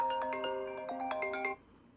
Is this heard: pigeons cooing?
no